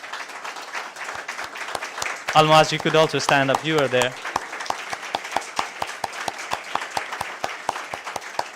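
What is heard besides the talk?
round of applause for volunteers at an assembly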